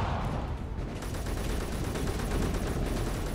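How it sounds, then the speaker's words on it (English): Cannons fire in the space-combat video game Space Engineers during a pirate boarding battle, a loud, dense and continuous barrage of overlapping blasts with no gaps. "Keep firing the cannons."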